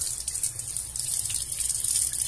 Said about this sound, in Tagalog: Bubuksan ko na ngayon ang tubig